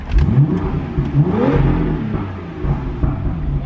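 A BMW M2's engine revs hard, the pitch sweeping up and down through several loud, close blips before settling into a throbbing idle, with no voices over it.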